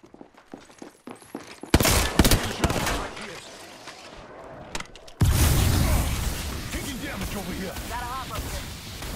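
Gunfire in a team shooter video game, with dense bursts of automatic shots and sharp impacts that erupt loudly, pause briefly, then return as sustained heavy fire over game effects.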